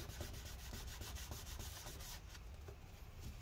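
A 13-inch mid-2017 MacBook Pro A1706 is cleaned with rubbing alcohol, giving steady close scrubbing and rubbing strokes in a quick repeating rhythm, faint, with no voices.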